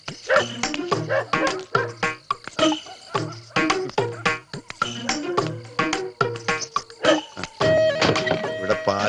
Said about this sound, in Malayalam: പക്ഷെ ഇന്നെന്താണെന്ന് അറിയില്ല, പട്ടികളുടെ ബഹളം.